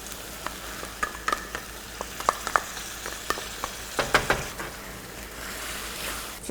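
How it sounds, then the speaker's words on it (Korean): Washed rice and tomato puree are stir-fried in a pan for paella, giving a quiet sizzle broken by scattered clicks and scrapes of a stirring utensil, with no talk. "여기에 오늘 아까 준비한 씻어놓은 쌀, 쌀을 넣고 볶아주도록 하겠습니다."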